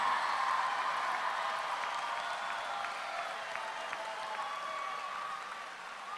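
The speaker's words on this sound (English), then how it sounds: "How about a round of applause for the class of" Sustained applause from a high school commencement audience honoring the graduating class of 2022, a dense, even wash of clapping that holds steady throughout.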